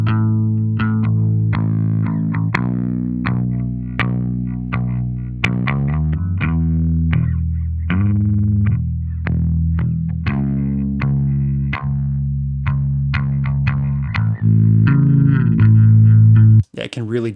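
A bass guitar plays through a Gallien-Krueger 800RB amp emulation plug-in, sounding as a sustained, distorted and chorused line of notes with deep low tones, loud and continuous.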